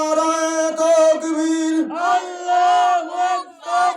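A crowd at a religious gathering in Gafargaon, Mymensingh chants a religious slogan in response, loud unison voices rising in repeated drawn-out bursts with short gaps between phrases.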